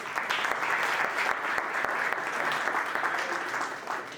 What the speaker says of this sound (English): So we should clap for her also.